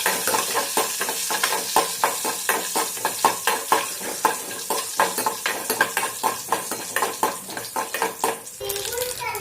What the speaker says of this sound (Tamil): நல்லா கடுகு பொரிஞ்சு வரட்டும்.